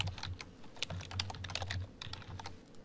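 Quick, light typing of a name on a computer keyboard, an irregular patter of close, crisp key clicks with no speech.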